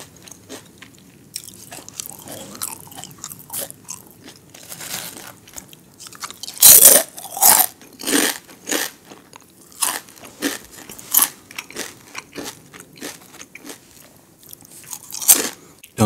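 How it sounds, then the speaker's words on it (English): Crunchy food is bitten and chewed up close, with sharp, loud crunches at irregular intervals between quieter chewing and crackling, heard alone without talk. "I know it's going to give you that crunch."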